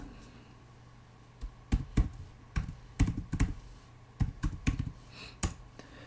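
Someone types C++ code in Vi on a Linux computer keyboard, with irregular bursts of close, crisp key clicks separated by short pauses over a faint background hum.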